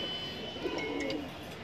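A high-flyer pigeon with a closed tail coos once, a soft, low, rolling call close by over faint background noise.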